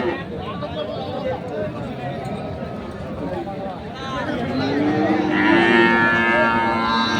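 Cattle, including Sahiwal bulls, moo at a busy rural livestock market, with one long, drawn-out low moo near the end rising over constant crowd chatter and people talking nearby.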